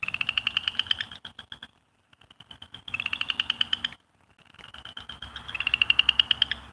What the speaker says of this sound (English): Can y'all hear the frogs?